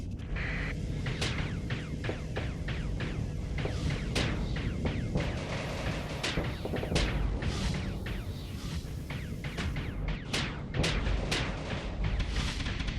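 Spaceship lasers and missiles fire in Starsector as a rapid string of sharp zaps and booming bursts over a dense, steady background of combat noise.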